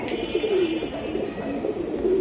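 Silver-style pigeons coo in a steady run of low, throaty calls close by, repeating through the clip with a faint hum underneath.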